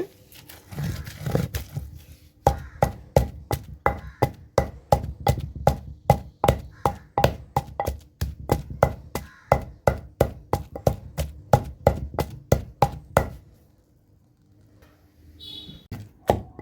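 Tomato chutney being pounded in a stone mortar: a long run of steady, evenly spaced heavy thuds, roughly two per second, close and fairly loud, ending in quiet with a faint clink.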